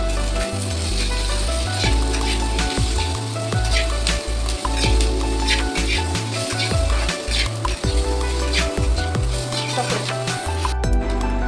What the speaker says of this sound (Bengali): এখন আমরা কেটে রাখা পেঁয়াজটি দিয়ে আরেকবার ভালো করে ভেজে নেব।